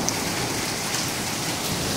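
Hail pelts down during a severe storm in April 2015, a dense, continuous hiss and patter that stays steady and loud from start to finish with no voices.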